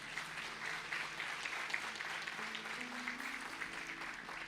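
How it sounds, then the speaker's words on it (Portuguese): A church congregation claps together at an evening worship service in Brasília, a steady, dense wash of applause sustained throughout with faint voices and tones murmuring beneath. "dê uma salva de palmas para Jesus"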